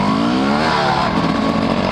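An off-road vehicle engine revs hard and loud while the machine pulls a wheelie on a Hatfield-McCoy trail, a sustained raspy roar that holds steady for about two seconds.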